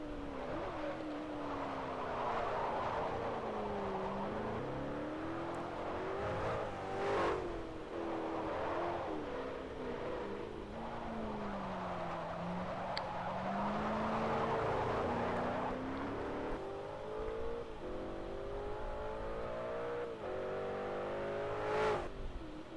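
A Bugatti Veyron Super Sport lapping a race track, its engine note rising and falling through repeated gear changes and accelerations, heard from a distance at fairly low volume with brief sharper bursts, no voices.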